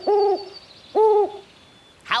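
A cartoon owl hoots from inside an old hat, two clear, separate hoots with a pause between them, close and loud, followed by a brief sharp sound at the end.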